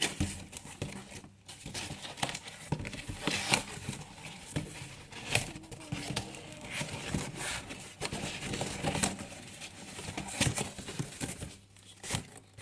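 Stiff cardboard crinkles and tears continuously, with scraping and flapping rustles close by, a steady busy handling noise without talk.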